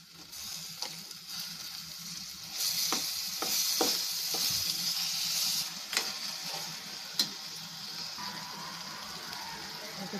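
Tomatoes frying in a pan with roasted masala for a Maharashtrian prawn curry, a steady close sizzle with occasional stirring clicks and scrapes.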